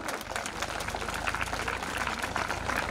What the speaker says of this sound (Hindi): तालियां भाई, जोर से तालियां तो होना चाहिए ना।